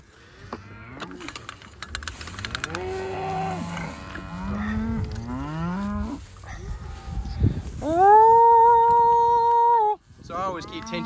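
Cattle in a pasture moo repeatedly, several drawn-out calls from cows and heifers during stock rotation, some near and loud, with a long sustained moo toward the end.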